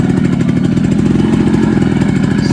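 A Yamaha RX100 motorcycle engine revs on a hilly off-road trail, a loud, close, continuous buzzing two-stroke drone held steady throughout with no talking.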